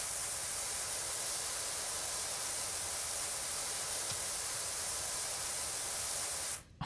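A pressure washer sprays in the video game Powerwash Simulator, a steady broadband hiss that runs unbroken for several seconds before cutting off, with no talk.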